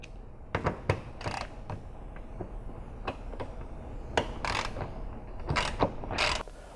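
A ratchet works on Scion FR-S bumper bolts in bursts of sharp metallic clicks and ratcheting strokes, close and irregular, with quiet gaps between.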